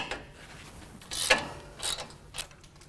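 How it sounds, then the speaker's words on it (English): A breaker bar works loose the 21 mm caliper bracket bolts from a truck's front spindle during a Pro Comp 6-inch lift kit install, giving a few sharp ratcheting cracks and clunks spaced about half a second apart, close and fairly loud. "we're removing these 2 21 millimeter bolts to hold the caliper onto the spindle"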